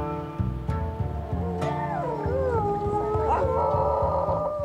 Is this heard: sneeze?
no